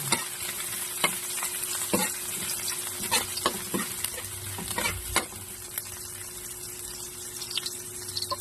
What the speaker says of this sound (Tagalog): Lagyan natin ang bawang, guys.